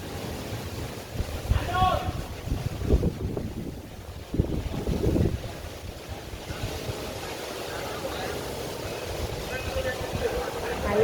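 Wind gusts across the microphone outdoors on a sunny day in Taguig, Manila, a rough, fluctuating low rumble that runs throughout, with people talking briefly over it early on.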